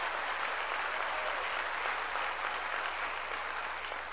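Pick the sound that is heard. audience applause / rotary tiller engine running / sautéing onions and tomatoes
audience applause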